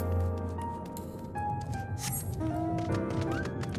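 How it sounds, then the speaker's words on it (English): A horse in the video game Final Fantasy XIV whinnies amid dense game ambience, with soft hoof clops and layered tonal sounds filling the short stretch. "Look at that pretty horse."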